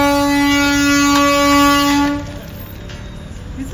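The Darjeeling toy train sounds a long, loud, steady horn blast lasting about two seconds, which then cuts off, leaving quieter rumbling and background noise behind it.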